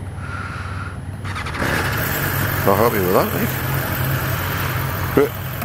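A motorcycle engine idles steadily, close and fairly loud, after a keyless ride failure on a touring bike in the Picos mountains of Spain, with someone talking over it.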